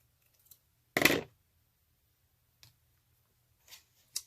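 Scissors cut a tassel strip in a single crisp snip, followed by a few faint clicks and handling sounds in an otherwise quiet room.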